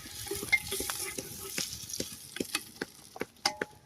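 A spoon stirs food frying in a pan: a steady sizzle runs throughout, broken by irregular close scrapes and clinks of the spoon against the pan, with no talking.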